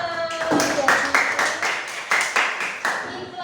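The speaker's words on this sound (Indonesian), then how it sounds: "beri tepuk tangan Mbak Nisa." A classroom group claps for a student after a presentation, a few seconds of rhythmic hand claps with distinct beats, fairly close and moderately loud, alone without talk.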